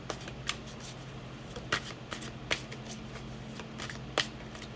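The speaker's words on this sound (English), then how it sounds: "when I'm shuffling the cards are sticking to my hands" Tarot cards shuffled by hand in a quiet room, a run of crisp, irregular riffling flicks and soft slaps, close and fairly faint.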